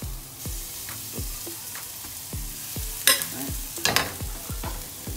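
Oil sizzles in a hot pan on high heat, a moderate hiss under repeated rhythmic thumps and scrapes of stirring, with two brief louder bursts of spitting, all fairly close and without talking.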